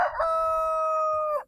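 A rooster crows once, a long, loud, steady cock-a-doodle-doo with a brief rising start and a clipped ending, heard close up among free-range laying hens on a farm with vineyard pasture.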